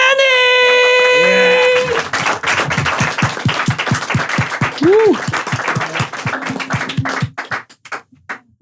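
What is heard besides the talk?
audience applause for Jenny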